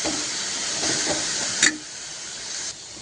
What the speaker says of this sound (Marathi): भाजी जास्त आपल्याला शिजवायची नाही फक्त परतून घ्यायची आहे